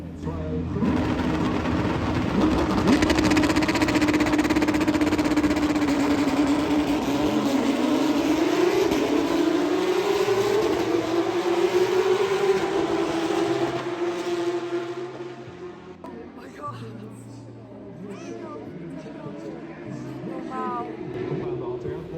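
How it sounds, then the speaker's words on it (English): Porsche Supercup race cars roar past in a loud, sweeping wave at the Dutch Grand Prix, pitch rising and falling, followed by quieter distant engine noise as the pack moves away. "it was time for the Porsche Supercup to race"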